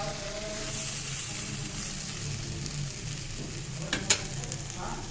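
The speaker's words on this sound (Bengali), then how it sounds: "মশলাটা প্রায় আমার ভাজা ভাজা হয়ে গেছে, এবার এর মধ্যে আমি চিংড়িগুলোকে ছেড়ে দিলাম। ছেড়ে একটু নাড়াচাড়া করে জল দিয়ে দেবো।" Shrimp fry in a spiced paste in a pan, giving a soft continuous sizzle with occasional scraping stir strokes and a couple of brief clinks near the end.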